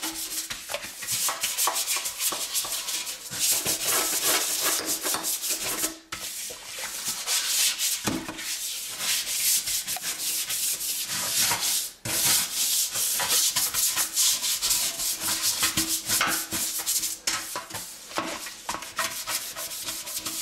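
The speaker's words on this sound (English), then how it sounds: "I'm just going to take the brush and just kind of rub it back down just lightly." A brush rubs lightly back and forth over a stainless steel sink, making a steady, close, hissing scrub that runs on with only brief pauses.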